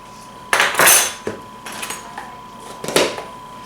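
A utensil stirs cocoa powder into a paste in a bowl for a red velvet cake, giving a few close scraping and clinking strokes in short bursts, with a steady faint tone underneath and no talking.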